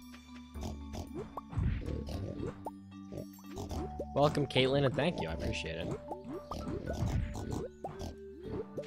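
Pigs oink in Stardew Valley, with short farm-animal grunts scattered under a man's steady, close talking that covers most of the sound.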